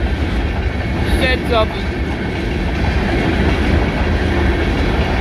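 A long freight train rumbles past up close, loud and continuous, with a brief squeal near the start and a voice speaking faintly under the steady roar.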